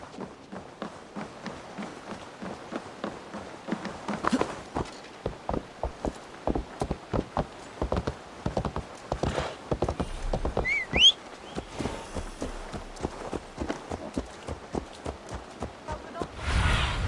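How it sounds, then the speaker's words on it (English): Horses' hooves clip-clop in a steady, rhythmic gait in Assassin's Creed Valhalla near Dublin's gates, the clear repeated strikes running throughout over a soft ambient bed. "I will ready the horses."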